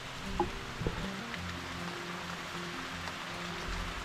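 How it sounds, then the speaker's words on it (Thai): Light rain patters on the roof of a small hut by a creek, a steady soft hiss with a few scattered louder drops, with no talking. "ฝนตกไม่แรงมากนะครับ"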